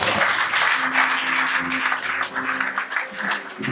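A church congregation applauds enthusiastically during a service, with loud, sustained clapping and some voices rising through it.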